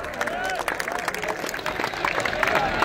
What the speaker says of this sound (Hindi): तमाम साधु संतों के लिए तालियां बजाओ एक बार।